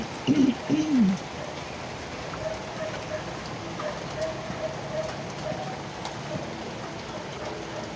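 Steady rain of the first summer downpour falls on a surface, a soft continuous patter filling the whole stretch, with a few brief vocal sounds near the start.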